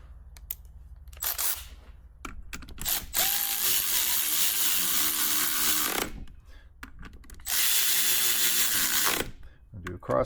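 A hand ratchet drives bolts home on a Kawasaki KX 85 dirt bike with a broken shift shaft, in two long loud bursts of rapid clicking separated by quieter pauses and faint shop noise.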